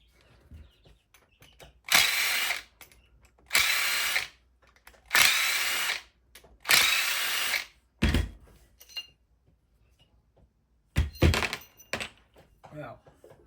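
A wire stripping machine with a small gearbox and DC motor whirs in short loud bursts of a few seconds each, separated by quiet gaps and a couple of clunks.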